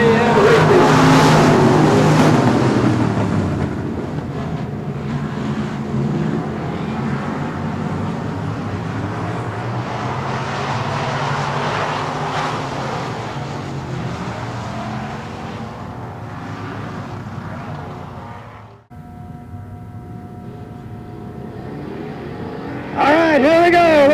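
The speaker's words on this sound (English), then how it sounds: "we're away and racing" Race cars roar around Texana Raceway Park after the green flag, their engines revving and passing loudly while an announcer talks over them; the noise drops out briefly before returning near the end.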